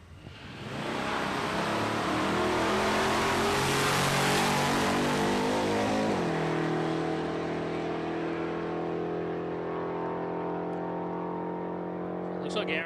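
Nitro-fuelled big-block HX Holden Premier Ute launching down the strip at Palmyra Dragway on test day, a loud sustained roaring engine that shifts pitch midway and then holds a steady drone before easing off.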